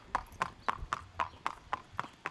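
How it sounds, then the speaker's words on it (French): Horses galloping on a racecourse near a French château, hooves striking the ground in a steady, evenly spaced clip-clop of about nine beats, fairly close and clear over a light background rumble. "Les chevaux naturellement galopent"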